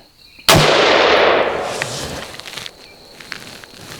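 A single loud, sharp gunshot from a Brownells BRN-15 AR-15 with an 11.5-inch upper cracks out close by, followed by a long rolling echo that fades over several seconds, with a few faint clinks afterward.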